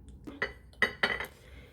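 A small spoon clinks against a little dish of butter with dill and bacon, three or four sharp close taps and scrapes in a quiet kitchen.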